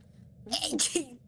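A single sharp sneeze bursts out in a room, fairly close and brief, with a quiet voice murmuring faintly in the background before it.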